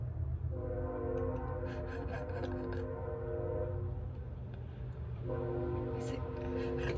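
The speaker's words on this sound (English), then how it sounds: "The train keeps blowing its horn." A loud, sustained train horn blares in two long blasts separated by a short gap, over a low rumbling drone.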